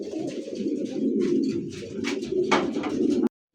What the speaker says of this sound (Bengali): এই মুহূর্তে দেখতে পাচ্ছেন দুই দিরা কবুতর, পেশোয়ারি কবুতর